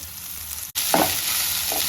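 Boiled field beans (avarekalu) and onion fry in a pan with a steady, close sizzle that cuts out for an instant and then resumes, with light stirring noises on top and no talking.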